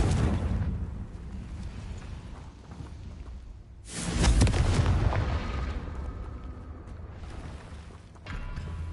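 Spell explosions from the Confringo curse in Hogwarts Legacy, a loud burst of booming blasts that swells at about four seconds and again near the end, with rumbling, crackling fire-like noise sustained between the hits.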